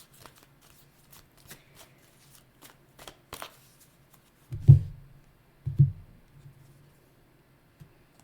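Tarot cards shuffled for a reading, soft scattered card flicks followed by two louder riffling bursts, close and quiet, with no talk.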